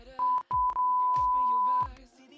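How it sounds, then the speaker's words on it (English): Three short electronic bleeps from a Voicemod voice changer, then one long sustained bleep tone, loud and up close, with brief gaps between them. "This bleep right here. Yeah, that's in voice mod."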